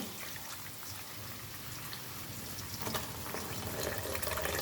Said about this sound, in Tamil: நம்ம வந்து குழம்புல ஊற்ற போகிறோம்